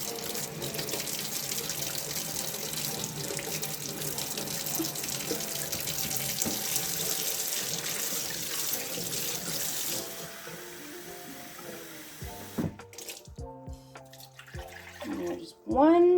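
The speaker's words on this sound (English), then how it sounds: "I'm just gonna make sure that my tap is set to warm." A household tap runs warm water steadily into a sink for about ten seconds, loud and continuous, then shuts off, leaving a few drips and light clinks.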